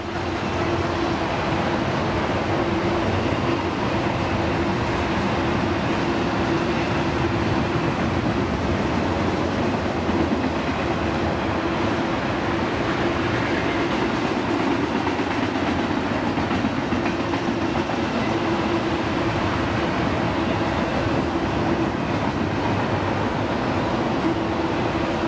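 A train passes by with a continuous low rumble and faint rhythmic clatter, holding steady and fairly loud throughout, with no voices.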